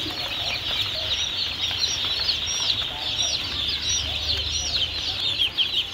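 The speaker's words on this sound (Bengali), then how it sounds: "দেখেন খুব সুন্দর ব্রিডিং সম্পূর্ণ টাইগার মুরগি" Tiger breed chickens cluck and flap their wings on a farm, with high chirping calls over a steady, busy background of many birds.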